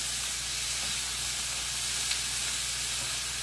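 Green beans, mushrooms and onions frying in a pan, an even, close sizzle with a constant hiss of steam that holds steady throughout, with no voices.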